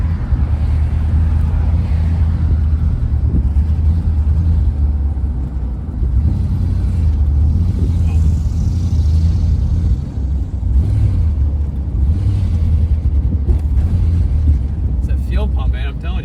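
A junk 1976 Chevy Nova with a suspected fuel pump problem drones loudly and steadily as it is driven, its low engine rumble mixed with road and wind noise and running under voices from inside the car.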